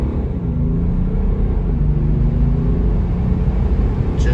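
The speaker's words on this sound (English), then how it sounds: "let's go ahead and do an acceleration run here just for fun" A 2018 BMW 540d xDrive diesel accelerates hard uphill, its engine a deep, loud, continuous rumble with rising tones as the revs climb, heard from inside the cabin.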